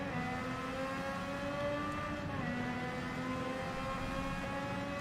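Race car engine in the Gran Turismo 7 video game, held at high revs, a steady loud drone with layered tones that shift slightly in pitch throughout, no talking.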